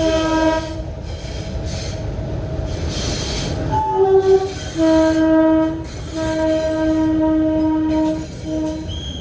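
A small meter gauge train rumbles past with repeated loud horn blasts, several long hoots sounding one after another over the steady rolling of the wheels.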